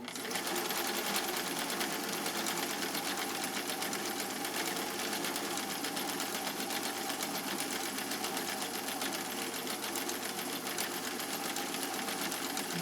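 A sewing machine runs continuously, stitching tri-motion stitches with a fast, even mechanical whir and rapid needle chatter, steady and close for the whole stretch with no talking.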